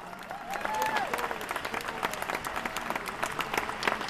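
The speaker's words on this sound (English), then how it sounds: "Give him a round of applause." An audience at a Cattle Baron's Ball charity event breaks into sustained applause, a dense patter of many clapping hands that swells quickly and carries on steadily.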